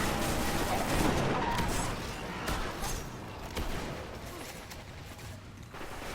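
Shotgun blasts and gunfire in the sci-fi shooter game Destiny, a dense run of loud booming shots over a steady noisy battle bed, with a faint voice underneath.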